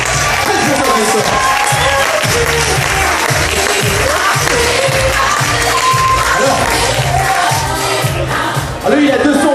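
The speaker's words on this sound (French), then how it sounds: "on applaudit Franck." An audience at a holiday campsite evening show bursts into sustained applause, dense rhythmic clapping with cheers and a crowd murmur, loud and close, while a presenter's voice and background music carry on underneath.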